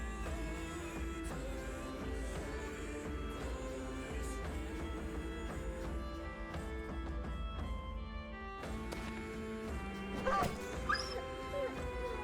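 Dog yelping and whimpering in the video game Battle Brothers as a shot strikes it, the cries rising over a dense, steady bed of game music and battle ambience, with a brief sharper burst near the end.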